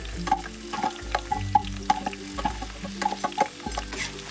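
Marinated onion frying in hot oil in a kadhai, a close crackling sizzle with quick ticking pops and clinks of stirring throughout.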